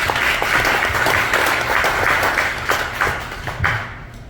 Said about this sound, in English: So how about a big warm round of applause.